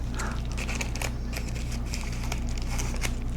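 Scissors snipping open the plastic packaging of an Olive Garden pasta pass, heard as quiet, close crinkling and small clicking cuts over a low background hum.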